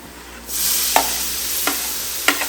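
Tomatoes and curry leaves sauté in a pan for a Kerala-style mutton dish, with a loud steady sizzle and a few sharp clinks of a spoon stirring against the pan.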